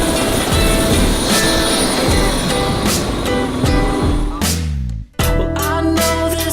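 Helicopter flying over Manhattan Island on a tour, a loud, steady rotor and engine roar with a droning whine that holds throughout, then briefly drops out near the end and resumes.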